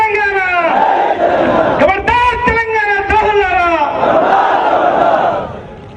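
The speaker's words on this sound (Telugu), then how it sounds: "ఒక్కసారి చప్పట్లు చెప్తాం" At a union meeting, a large crowd shouts and cheers in loud, sustained unison voices, rising and falling for several seconds before tapering off at the end.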